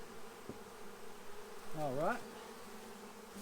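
A brief honeybee swarm buzz rises and wavers over a steady low drone, with a man's short remark at the start.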